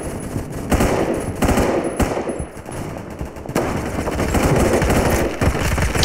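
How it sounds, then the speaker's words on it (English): Rapid machine-gun fire in a Roblox shooter game, dense automatic bursts that run almost without a break, loud and close, with several brief lulls. "there's bullet holes each time he shoots something"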